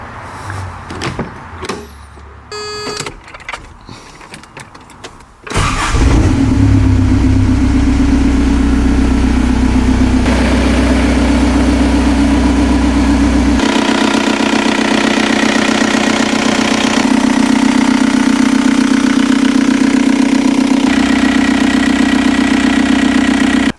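After some clicks and handling noises, a Toyota fitted with a TDI diesel engine starts up and settles into a loud, steady idle while warming up, its rough rumble continuing unbroken with no one talking.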